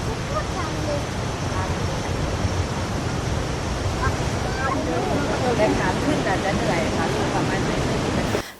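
A powerful waterfall plunging over a cliff more than 150 metres high with a near-vertical top tier in Nakhon Nayok, heard as a steady, loud, broadband roar of rushing water that fills the whole clip.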